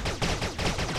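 Rapid gunfire in the shooting game Attack of the Movies 3D, a loud, close burst of several quick shots in a fast rhythm over about a second, with no talking.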